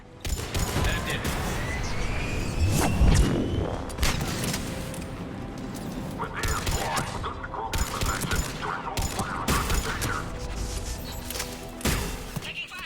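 Gunfire fills a checkpoint firefight between Cerberus troops and Krogan in the video game Mass Effect 3, with dense bursts and sustained automatic fire over rumbling booms and mechanical clatter, continuous and loud throughout.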